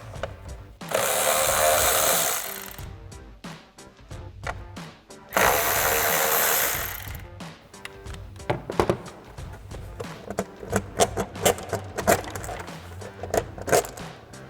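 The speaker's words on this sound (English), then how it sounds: "we're going to use our 10mm socket to remove those" Tool work on the front engine cover nuts of a 2018-2023 Ford Mustang, with two sustained bursts of power tool whirring followed by a series of sharp clicking and clunking ratchet sounds, close and fairly loud.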